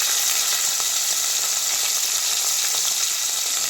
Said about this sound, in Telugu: వీటిని మంచిగా వేయించుకుందాము. వీటిని పచ్చివాసన పోయేంత వరకు వేయించుకుందాము.